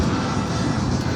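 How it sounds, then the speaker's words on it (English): A Harley-Davidson Softail Deluxe with a 96-inch engine roars through Vance and Hines pipes, a loud, dense, steady exhaust drone held close and unbroken. "It's got a nice set of Vance and Hine pipes to make that 96-inch scream."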